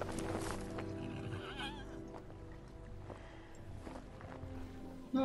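A horse whinnies in a fantasy film scene, a loud neigh at the start followed by fainter movement and hoof sounds under a low background.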